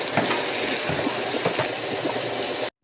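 Cooked lasagna noodles are rinsed under running water in a home kitchen, producing a steady, close splashing stream with small irregular spatters, cut off abruptly at the end.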